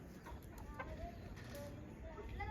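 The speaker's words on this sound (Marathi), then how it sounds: "गावात कोंबडं बरेच झाले हो का." Chickens softly clucking in a village in Dapoli, Konkan, with a few faint scattered calls over quiet background noise and low voices nearby.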